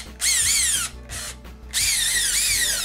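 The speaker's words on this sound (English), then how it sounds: "once your screwdriver starts to spin, you know that it's in there tight" A Makita BHP452 cordless drill runs after a brush repair. Two bursts of whining motor spin up and wind down close by, with a short gap and a brief blip between them.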